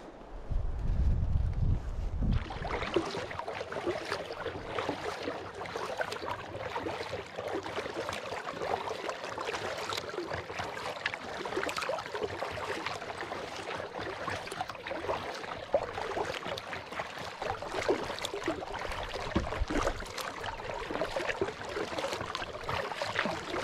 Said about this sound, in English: Nice and breezy, so there's no bugs.